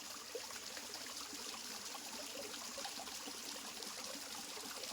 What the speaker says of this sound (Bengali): ছোট্ট একটা ঝর্ণা আমার পেছনে ঠিক দেখা যাচ্ছে, আওয়াজটা শোনো